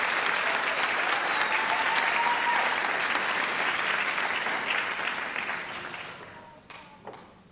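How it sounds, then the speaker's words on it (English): Audience applause at a Teacher of the Year celebration, sustained dense clapping from a large crowd that gradually fades and tapers off with a few last scattered claps. "We applaud you."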